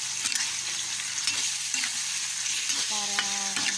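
Chicken necks being stirred with broth in a pan, a spoon scraping and clinking in repeated strokes over a steady close sizzle and bubbling.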